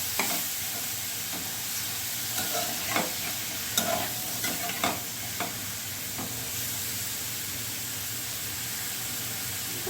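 Food frying in a wok as it releases water, a loud continuous sizzle and hiss with a low hum underneath, punctuated by several sharp stirring scrapes in the middle.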